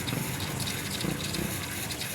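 Water gushes and hisses steadily in a continuous rushing stream as it drains from an air compressor tank, fairly close, with no speech.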